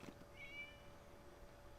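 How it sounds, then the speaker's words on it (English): A cat gives one short, high meow in a video game, faint and brief against a low steady background hum, with no talking. "It was just a cat."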